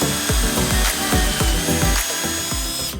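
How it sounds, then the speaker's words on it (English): A power drill whirs steadily and loudly, with a rapid run of rhythmic thumps as the bit bores angled pocket holes through 3/4-inch plywood. "You can drill angled holes through the plywood that connect the 2 boards"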